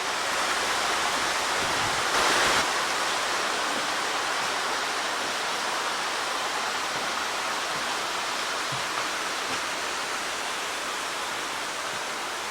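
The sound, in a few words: waterfall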